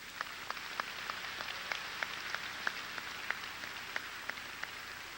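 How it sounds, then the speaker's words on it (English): Applause from a graduation ceremony audience, a soft, distant patter of many hands clapping steadily for several seconds, faint and without voices. "So I believe that's a round of applause there."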